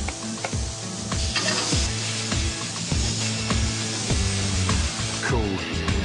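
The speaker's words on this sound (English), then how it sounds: "you can hear the tomatoes roasting in the flavour of the fish" Tomatoes sizzle and roast in a pan alongside fish fillets, a steady close frying hiss broken by scraping stirs and clinks of utensils, with no talking.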